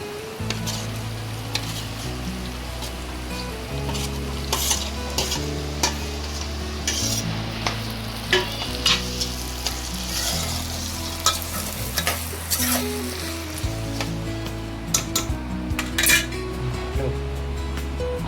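Prawns being stir-fried with cooked tomato and onion for a dhaba-style prawn dish, a steady sizzle under repeated metal scrapes and clinks of a spoon against the pan, close and fairly loud throughout.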